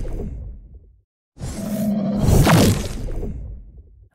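Layered magic spell sound effect built from stacked whooshing swishes, a short burst, a brief silent gap, then a fuller roaring swell that peaks and slowly fades, with no voices.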